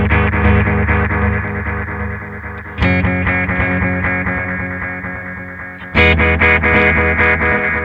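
Electric guitar run through a Red Witch Titan pedal with three delays in series, long delay time and medium feedback, producing dense, syncopated cascading repeats that build up, with fresh louder chords struck near three and six seconds.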